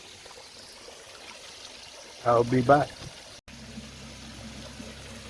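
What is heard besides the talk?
garden pond waterfall trickling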